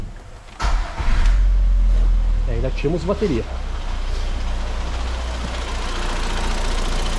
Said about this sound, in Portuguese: Manda ligar o veículo.